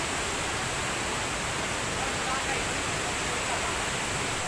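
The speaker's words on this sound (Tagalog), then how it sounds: "Welcome to Pinaghiusa Falls, also known as Kaumuman Falls." Pinaghiusa Falls, also called Kaumuman or Burbuanan Falls in Baganga, Davao Oriental, sends up a steady, dense rushing roar of falling water that stays constant and close throughout, with no voices over it.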